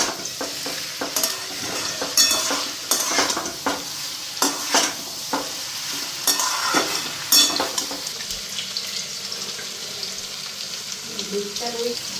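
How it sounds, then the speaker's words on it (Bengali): Fish coated in spice masala frying in a pan, with a close sizzle and frequent scraping and clattering of a utensil turning it, plus a faint voice in the background. "মশলাটা দিয়ে মাছটা ভালো করে ফ্রাই করে নিই।"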